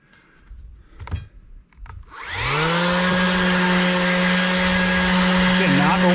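A power sander, running without sandpaper, starts up after a few faint knocks and handling sounds and then whines loudly and steadily as it works over reclaimed cypress boards on an outdoor picnic table.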